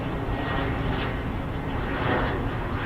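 An Embraer Phenom T1 jet flies in at an RAF airfield with a steady, fairly faint broadband jet roar that swells slightly, with no voices.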